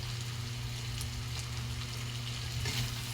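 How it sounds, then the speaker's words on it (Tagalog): Ketchup being stirred into chicken caldereta in a hot pan, a dense, steady sizzle and bubbling close by with faint scraping throughout. "Haluin natin guys, haluin natin ang ating ketchup."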